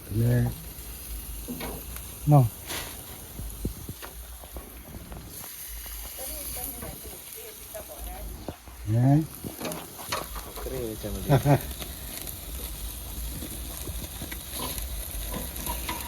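Chicken on a metal skewer grills over an open fire with a steady low sizzle and crackle, quiet and continuous, broken by a few brief louder knocks and bird calls in the background.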